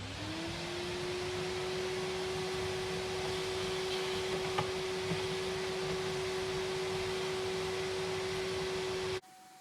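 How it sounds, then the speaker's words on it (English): A vacuum cleaner spins up and runs with a steady high whine and airy roar while cleaning an Audi A3 engine bay, then cuts off abruptly near the end. "now I'm going to vacuum anything that I have to get"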